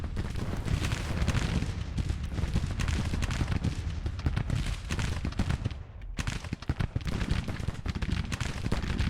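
Dense, continuous gunfire and artillery booms from a Civil War battle in the strategy game Grand Tactician, with rapid overlapping shots and heavy low rumble filling nine seconds, briefly dipping near the end before resuming.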